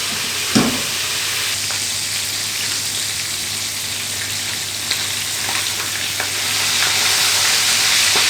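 Pork spareribs fry in a pan with a loud, steady hiss and crackle that continues unbroken, a faint knock early on and the sizzle swelling slightly toward the end.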